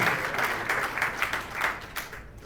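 A crowd applauds with rapid, dense clapping at moderate volume that continues steadily throughout.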